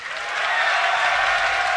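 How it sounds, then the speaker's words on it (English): A live esports crowd at a DreamHack Summer StarCraft quarterfinal erupts in sustained cheering and applause for a Terran player, swelling within the first half second and holding at full, dense volume throughout. "Give a cheer for Star Tails Bomber."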